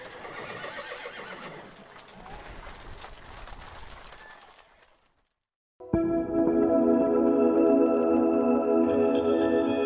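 A large herd of horses is gathered together: hooves and shuffling at first, then after a brief pause loud, close neighing and whinnying calls ring out one after another.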